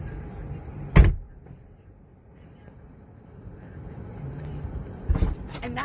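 A Tesla car door is shut from outside, with one sharp solid thud near the start and a second softer thump with a rattle later, over a low background rumble.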